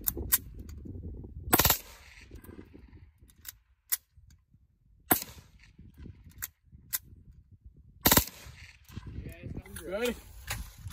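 Shots ring out from a Bushmaster rifle outdoors: four loud, sharp separate reports spaced a few seconds apart, with people talking between them.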